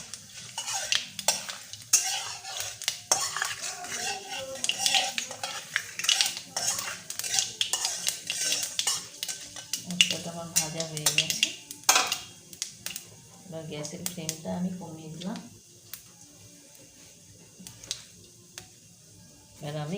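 Panch phoron spices frying in oil while being stirred in a pan for a sweet-sour-spicy jujube pickle, with frequent scraping and clinks of a spoon against metal, steady close sizzle underneath, and bursts of talk in between.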